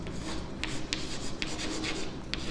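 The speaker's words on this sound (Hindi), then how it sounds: "मैं लिखता हूँ" A pen scratches across paper while someone writes out a math solution, making soft, close strokes with light taps at an uneven pace, over quiet room noise and with no talking.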